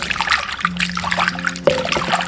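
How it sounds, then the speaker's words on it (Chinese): Peeled, back-split shrimp rinsed by hand in clean water in a bowl, with close, steady trickling and light splashing that runs throughout. "然后加清水淘洗干净"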